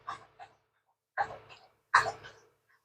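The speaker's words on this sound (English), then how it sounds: "I have a puppy." A shepherd puppy pants and huffs in three short bursts separated by pauses, close by and alone, with breathy, throaty snorts rather than any talk.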